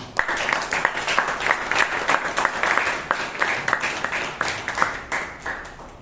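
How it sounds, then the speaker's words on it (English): Audience applause at a Toastmasters club meeting in Bangalore, a steady, rhythmic round of many hands clapping in a room, fairly even in loudness with distinct individual claps standing out, lasting about six seconds. "let's hear a loud round of applause for our general evaluator of the day, Toastmaster Vaidyanathan"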